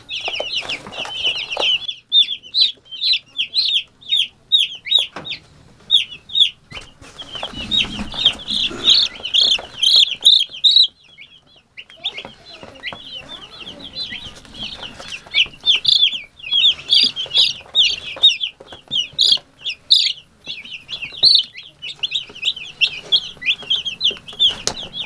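Two-day-old Cornish Cross meat chicks cheep continuously in a brooder, a dense chorus of high chirps with scattered louder peeps, close and steady throughout with occasional soft handling noises.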